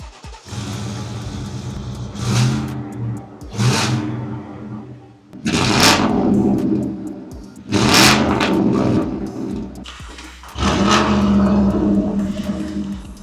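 An SUV engine revs hard through a stainless steel exhaust in several loud bursts, each rising and then dropping back to idle, with a throaty, resonant exhaust note between the pauses.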